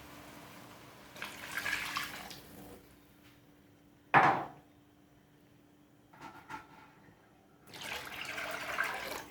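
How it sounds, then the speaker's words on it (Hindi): Water is poured into chicken pulao gravy in a pot, giving two splashing, gurgling pours separated by quiet and a sharp clank of a utensil between them. "अब इसके अंदर मैं पानी ऐड कर दूँगी"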